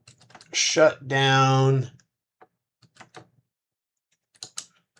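A person speaks briefly, followed by a few sparse, light clicks of typing on a computer keyboard.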